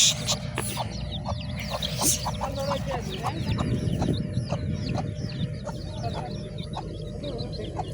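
Chickens and chicks cluck and cheep in a steady run of short, repeated calls close by over a low rumble of farmyard background noise.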